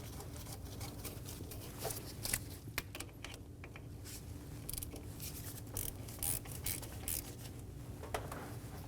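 On a 2008–2015 Scion xB with the 2.4L four-cylinder, a fuel rail bracket bolt is fitted and tightened, with dense quick ratcheting clicks and small metal taps, quiet and close, no talking.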